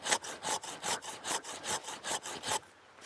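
Rhythmic strokes of a well-sharpened hand saw rasping through an old tree branch during pruning, about ten quick back-and-forth cuts, close and steady, ending in a brief pause.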